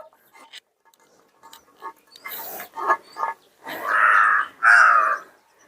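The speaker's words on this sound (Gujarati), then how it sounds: "નસીબ હોય કે તમે શ્રાદ્ધ નાખો અને કાગડા આવી જાય" Crows arrive at a shraddh food offering, with scattered soft sounds giving way to several loud, close, drawn-out caws toward the end.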